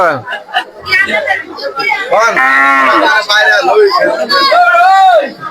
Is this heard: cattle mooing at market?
yes